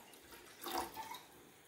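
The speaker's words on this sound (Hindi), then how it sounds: "एथिपाई आम 800 मिलीलीटर पानी प्रथम नबा" About 800 ml of water is poured into a pot to make skunk vine oil, a brief soft splashing pour that swells and fades within a second, heard alone.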